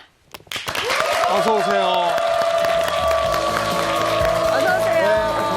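Studio audience on a Korean morning talk show applauding as a guest walks on, steady crowd clapping with bright music sounding over it and a host speaking briefly.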